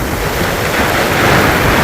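Floodwater rushes out of village fields after a heavy rainstorm, a loud, steady broadband roar of flowing water with wind noise buffeting the microphone and no voices.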